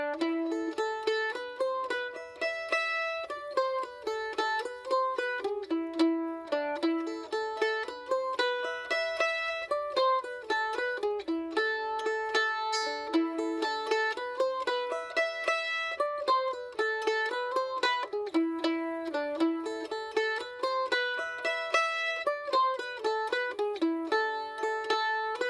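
Solo mandolin plays the A part of a jig, a bright run of quick picked notes in a lilting triple rhythm that continues steadily at an even volume with no voices.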